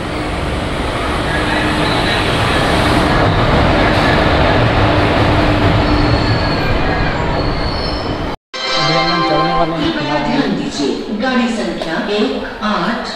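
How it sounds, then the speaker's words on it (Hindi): Steady rumble and rattle of a moving passenger train heard from inside a carriage on a journey from Jharkhand toward Rourkela, Odisha, loud and continuous, with a brief dropout near the end followed by voices talking over the ride noise. "ट्रेन पहुंच चुकी है फिलहाल, अभी इसमें बैठे हैं और राउरकेला जाएंगे"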